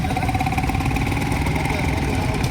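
Deutz P40 tractor engine idling at a Wilkowice tractor show, a steady low rumbling chug that holds even and continuous throughout, fairly close, with a faint voice in the background.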